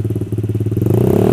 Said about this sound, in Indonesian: Kita review suara knalpotnya, guys. Let's go. Nice. Kalau digas kayak gini, guys, digas.